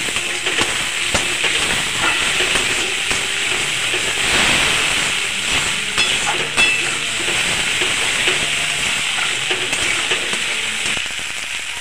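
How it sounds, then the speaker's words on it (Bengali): Spice paste with turmeric and salt sizzling in a hot pan for a Bengali fish curry with green banana and potato, a loud, steady, close hiss of frying with no talking. "মশলাটাকে কষিয়ে নেব।"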